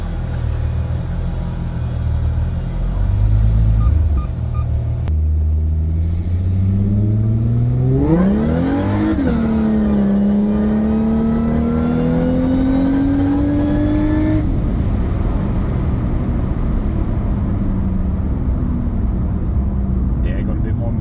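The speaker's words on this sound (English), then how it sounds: "So let's go for a drive." A tuned car on a drive on brand new 16-inch tires, its engine revving up in a rising pull and then holding a steady, strained drone as it accelerates, loud and close throughout.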